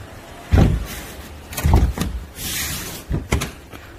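A door on a Jeep Wrangler JT pickup camper shuts with three dull thumps spread over a few seconds, each close and fairly loud, with softer handling noises between them.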